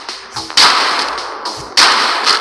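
Gunfire rings out in the mobile shooting game Johnny Trigger 9: two loud, sharp blasts about a second apart, each a crisp crack followed by a short fading tail, with no talk.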